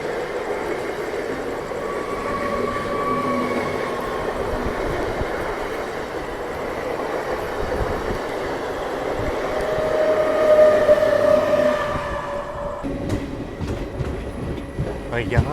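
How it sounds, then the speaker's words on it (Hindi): A local train rumbles past close by with steady clattering wheels and a brief high squeal, fading near the end; a voice is faintly heard underneath. "पर ये कोई लोकल ट्रेन लग रही है मेरे को।"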